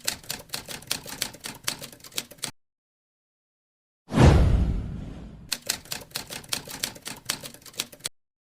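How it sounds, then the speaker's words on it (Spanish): Rapid typewriter keystrokes from a manual writing machine clatter in dense bursts, broken by a pause and a louder single crash or carriage return, then another run of brisk, close typing with no voices. "La máquina de escribir como punto de partida"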